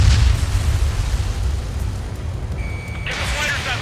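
A destroyed radar vehicle blows up in the Ace Combat 7 jet combat game, a heavy low rumbling boom at the start that rolls on and fades, with radio chatter and a brief tone over it.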